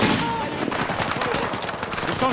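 Dense, continuous machine gun fire in the video game Battlefield 6, rapid loud bursts with a voice talking underneath.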